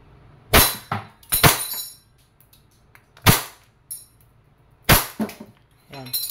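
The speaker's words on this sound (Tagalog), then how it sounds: "Okay, so testing muna natin yung semi automatic. Firing." A WE 5.1 Type K airsoft gun fires in semi-automatic mode, giving five sharp, snappy cracks spaced a second or so apart, close and loud against a quiet background.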